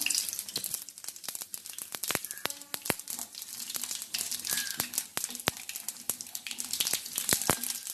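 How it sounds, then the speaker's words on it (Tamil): Mustard seeds and urad dal crackling in hot oil in a pan, a continuous fizz with many sharp popping clicks scattered throughout, close and fairly quiet. "எண்ணெய் சூடாகிடுச்சு. இப்போ நம்ம எடுத்து வச்சுருக்க கடுகு உளுந்த பருப்பை போடுவோம்."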